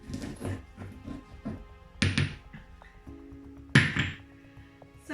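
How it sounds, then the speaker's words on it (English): Black salt ingredients mashed in a small mortar with a pestle, a few heavy thunks and grinding knocks spaced a second or more apart, close, with someone talking between the strikes. "so you just want to mash it all up together. I could probably do with a bigger pestle as well, or mortar."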